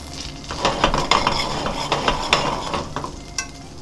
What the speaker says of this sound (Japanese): バターとニンニクをね、表面に絡める感じでゆっくり焼いていってください